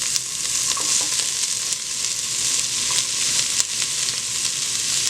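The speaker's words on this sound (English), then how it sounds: "Now we're just gonna let these saute for about a minute" Red onions sautéing in a very hot pot, a dense, steady hiss of frying with occasional faint pops and clinks, close up with no talking.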